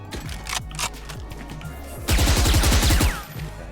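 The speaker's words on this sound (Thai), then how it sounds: "ยิงดูว่า ยิงได้เปล่า" Rapid bursts of gunfire from the tactical shooter Valorant, loud and close, with a dense rattling volley in the middle after scattered earlier shots, no talking over it.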